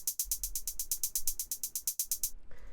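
A sharp drum machine style hi-hat in a minimal techno track repeats in a fast, even sixteenth-note pattern, bright and crisp over a low bass pulse, stopping just before the end.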